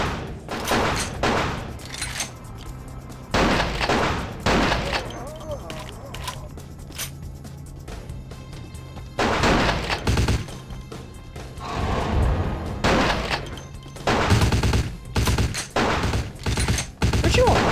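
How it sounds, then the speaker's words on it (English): Gunfire erupts in Vampire the Masquerade: Bloodlines as enemies shoot each other, loud clustered bursts of shots and impacts in several separate volleys with quieter gaps, and a voice talks between them. "I like how they can shoot each other."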